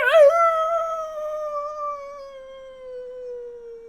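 A person imitates a wolf howl during a tabletop role-playing session, a single long wavering voiced howl that starts high, slides down and fades slowly, close and clear with no other sound around it.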